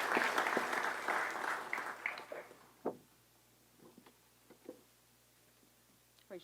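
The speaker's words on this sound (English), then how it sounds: "So let's give them all a round of applause before they take the oath of office." Audience applause at a police department promotion ceremony: a burst of dense clapping for about two and a half seconds that fades out, followed by a few scattered late claps in a quiet hall.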